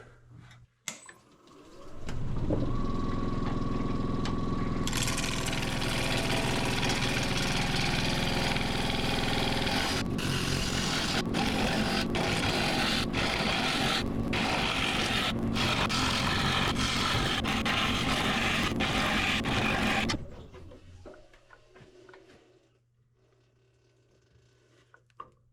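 A woodturning lathe spins up and hollows a rotted wooden piece, a loud steady whirring roar with scraping tool contact and sharp catches, running about eighteen seconds before winding down to quiet.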